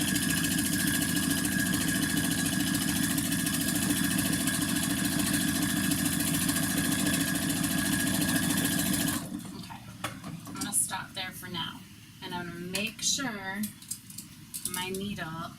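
A home sewing machine stitching T-shirt fabric for a Plantain tee, a steady close mechanical whir for about nine seconds that then stops, after which someone talks over quieter handling sounds.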